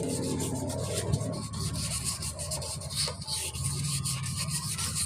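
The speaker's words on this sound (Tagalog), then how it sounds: "pag kiniskis yan ng liha" Continuous rasping friction of sandpaper rubbed back and forth against an electric fan's metal shaft, close and steady with no talking.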